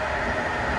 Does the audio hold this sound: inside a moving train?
yes